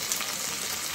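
Ginger hits a hot frying pan with tomatoes and gives off a steady, close, bright sizzle that runs without pause for about a second.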